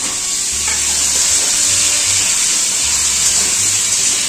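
Potatoes frying in oil in a pan for a Bengali fish curry, with a loud, even, continuous hiss and crackle that holds throughout, close by and without talk.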